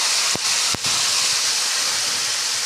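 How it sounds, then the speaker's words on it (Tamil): Chopped tomatoes fry in hot sesame oil, giving a loud, steady sizzling hiss close by, broken by a couple of brief clicks near the start. "நல்லெண்ணெய் சூடாகிட்டு வெட்டி வச்ச தக்காளி பழத்தை போட்டேன்."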